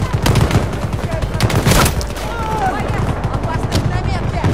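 Dense gunfire rattles through a Battlefield 2042 match in a rapid, overlapping stream of loud shots and bursts, with voices speaking over the combat.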